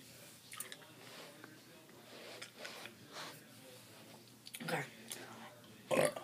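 A burp after eating Warheads extreme sour candy, a short throaty eructation near the end, following softer chewing and mouth noises close to the mic.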